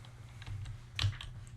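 Quick, light clicks of a computer keyboard as someone types a short burst, the keystrokes close and fairly quiet in an otherwise still room.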